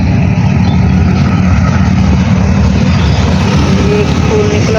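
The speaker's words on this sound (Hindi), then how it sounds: "ये देखिए ट्रैफिक भी चल रही है।" Road traffic passes along a roadside lined with flowers, making a loud, continuous broadband rumble of vehicle engines and tyres that holds steady without pause.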